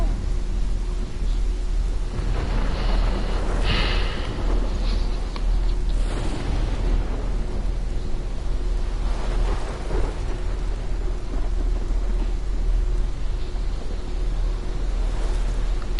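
A thunderstorm in the video game Life is Strange roars as a steady, dense wash of rain and wind, with low rumbling swells of thunder, loud and unbroken throughout with no voices.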